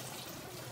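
Water and plain Egyptian rice pour into a cooking pot in a brief, steady rushing splash.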